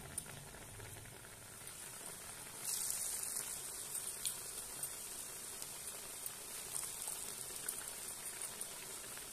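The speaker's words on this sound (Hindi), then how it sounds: "इनको हम मीडियम आंच पर तलेंगे, क्योंकि हमें इन टिक्कियों को कुरकुरा करना है।" Chana dal tikkis frying in hot oil in a kadhai over medium heat, a steady dense sizzle and bubbling that runs throughout and grows a little louder partway, with no talking.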